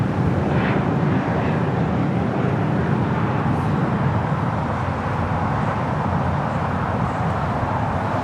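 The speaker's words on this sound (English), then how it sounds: "Aeromexico Flight 647 heading back to Mexico City in the 787-8 Dreamliner" An Aeromexico Boeing 787-8 Dreamliner jet departing LAX for Mexico City, a loud, steady broadband engine roar with rumbling low end that holds without a break, heard from outdoors.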